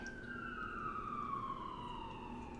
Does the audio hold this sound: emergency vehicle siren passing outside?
yes